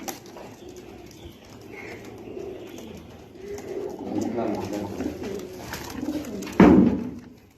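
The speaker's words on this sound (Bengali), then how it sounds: "তো আরো হিউজ পরিমাণ কবুতর আছে" Pigeons for sale at a farm cooing in soft, repeated murmurs, with a sudden louder flutter near the end and faint voices in the background.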